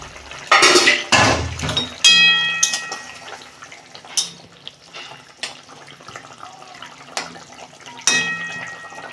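Pot lid lifted off a simmering fish curry with potato, sharp metallic clanks and clinks of the lid and utensils, a few louder knocks among quieter rattles, no talk.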